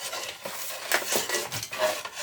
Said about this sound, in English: As you're pouring it in, make sure you turn it because you don't want your sugar to crystallize at the bottom.